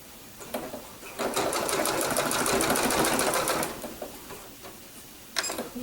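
A sewing machine runs a blanket stitch along quilt binding, a close, loud mechanical chatter with a rapid regular needle beat that builds, holds, then eases off, followed by a brief final burst.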